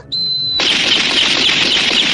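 Cartoon target practice: a thin high tone sounds briefly, then a loud, rapid burst of gunfire rattles on continuously, close and without talk.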